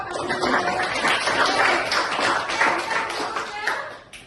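A classroom group claps during a lesson on coding and artificial intelligence, a busy, moderately loud spatter of hands over murmuring voices, trailing off at the end.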